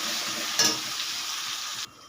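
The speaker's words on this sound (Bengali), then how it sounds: "দিয়ে আবারও কষাতে থাকব" Spiced masala for ghugni, with salt, turmeric and chili powder, is stir-fried in a pan: a steady sizzle with a single spatula scrape partway through, stopping abruptly near the end.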